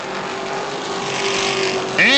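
Limited stock cars racing on an oval track, a continuous engine roar with a rising pitch sweep near the end as a car passes, heard at moderate distance under commentary.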